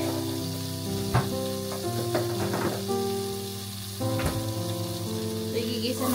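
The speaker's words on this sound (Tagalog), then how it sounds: "Igigisa natin sa butter ang ating chicken para masarap." Chicken sautéing in butter in a pan, a loud, steady sizzle with occasional stirring scrapes, close up and continuous over faint background music.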